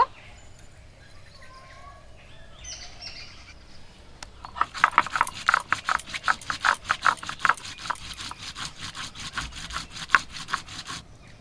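Cumin and dried chillies are ground together on a grinding stone in a kitchen, with rhythmic scraping strokes repeating steadily and close by after a quieter opening.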